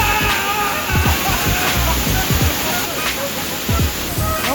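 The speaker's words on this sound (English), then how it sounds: "Rule number one of waterfalls, it's not a real waterfall until you touch it." A giant waterfall roars in a steady, loud, broadband rush close by, with faint voices under the constant pour.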